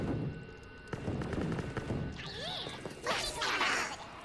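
Gunshots and impact crashes in a Call of Duty Black Ops III zombies wave, several sharp bursts mixed with sweeping electronic effects in a busy game soundscape.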